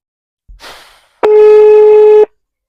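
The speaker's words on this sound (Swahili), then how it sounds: "mobile you're calling is not responding" A mobile call tone for an unanswered number: one steady, loud electronic beep lasting about a second, following a short burst of faint noise, with no talking.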